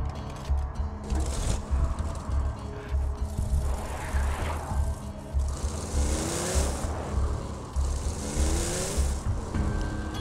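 A vehicle in the video game Borderlands 2 drives with a rumbling, pulsing engine, revving up and down as it moves, with some tire noise and scraping along the way.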